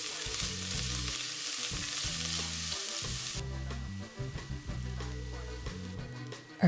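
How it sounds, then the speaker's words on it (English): Diced onion hitting hot oil in a Dutch oven sends up a loud, even sizzle that drops off sharply partway through, with background music playing throughout. "I've added some oil to our hot Dutch oven and now I'm adding our diced onion."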